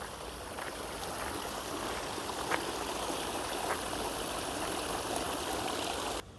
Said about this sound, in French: Tu vois le canal toujours. Et sa fontaine. La source. Une jolie fontaine.